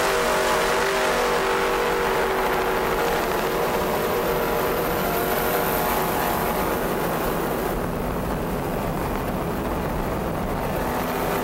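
Offshore racing powerboats at the 1993 Suncoast Offshore Grand Prix in Sarasota, Ramada Offshore boat among them, give a steady loud engine roar that swells and drones throughout.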